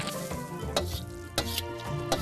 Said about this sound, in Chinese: 熱油劃過，為魚蔻定型，鎖住嫩度。